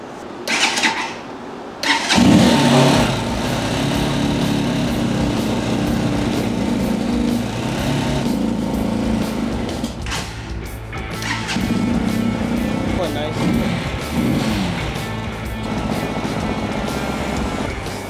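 A rebuilt motorcycle engine fires up on a stand after a short crank, then runs continuously at close range, a busy mechanical rumble with small rises and dips in revs.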